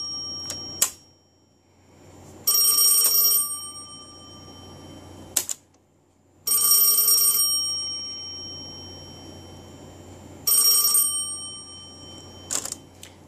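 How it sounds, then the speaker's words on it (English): A bell ringer on a 1A2 key telephone line in a Stromberg Carlson six-button phone setup rings in three bright, loud bursts of about a second each, separated by quiet gaps, with clicks and clunks in between. "The ringer you hear would be on the other phone"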